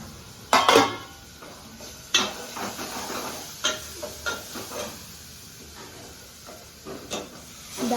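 Dal fries in a pan with a soft steady sizzle and hiss, broken by sharp metallic clinks and scrapes of a utensil against the pan at irregular moments.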